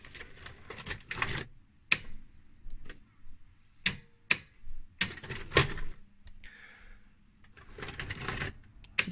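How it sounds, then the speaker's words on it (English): An ITT VR3984 VHS video recorder whirs and clicks as its mechanism ejects a tape, giving a string of sharp mechanical clacks and short motor runs with quiet gaps between them, close and clear, with nobody talking. "Well, at least it ejects the tape now."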